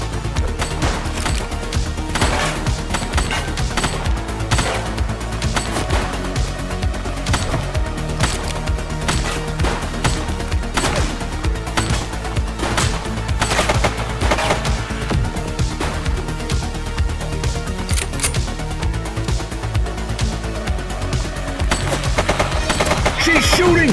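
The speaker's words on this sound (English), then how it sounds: "Shots!" Dense, sustained gunfire from The Precinct crackles in rapid bursts and single shots, loud and continuous over a busy game soundscape, with occasional voices underneath.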